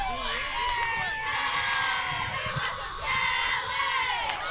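A crowd at a college softball championship game cheers and chants continuously, with many overlapping young voices shouting nearby, under a commentator's speech.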